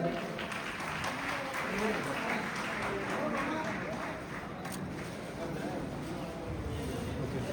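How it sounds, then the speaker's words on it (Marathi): Dense, steady clapping from a large crowd at a ceremony honouring Shivacharya religious leaders, sustained throughout without pause, with a murmur of voices mixed in. "सर्वांनी आपल्या टाळ्या वाजवत"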